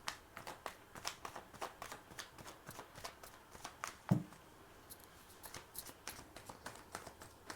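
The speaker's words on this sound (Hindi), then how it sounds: "अभी एक बार कार्ड्स निकालती हूँ" Tarot cards are shuffled and drawn by hand, giving quiet, close, rhythmic flicks and riffles, with a single soft thump partway through.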